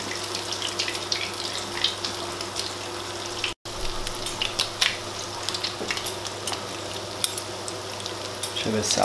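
Rabanadas, Portuguese French toast, browning in a frying pan: a steady close sizzle of hot oil throughout, with scattered light pops and clinks and a brief pause near the middle.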